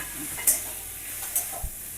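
Green chilies fry in hot oil with a steady close sizzle, broken by a few soft scrapes and taps of stirring.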